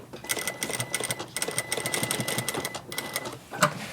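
A sewing machine stitches custom jeans in quick, close mechanical bursts, a rapid needle chatter that starts and stops several times, with faint room noise between runs.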